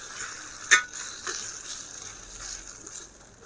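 A prawn omelette with onion, tomato and egg sizzles steadily in a pan, with a sharp scrape or tap as it is flipped early on, then a low continuous fry.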